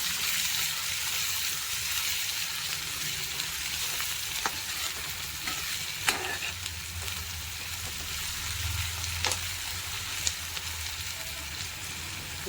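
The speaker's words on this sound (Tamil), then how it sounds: "வெங்காயத்தை போட்டு வதக்கிடுங்க நல்லா." Onions sautéing in a pan for a drumstick leaf and egg stir-fry, a steady soft sizzle with occasional faint clinks and stirring scrapes, fairly quiet and close, no talking.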